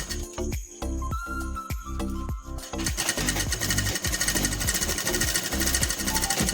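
Fast mechanical stitching from a sewing machine running along fabric pleats, first in short bursts with pauses, then in a continuous close, rattling run.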